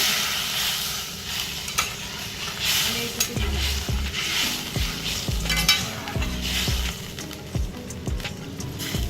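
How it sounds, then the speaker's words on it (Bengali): Fish curry liquid boils vigorously in a wok, with a constant bubbling sizzle broken by scattered pops and a few low knocks, close and moderately loud. "মাছের জল এখানে টকবক করে ফুটছে"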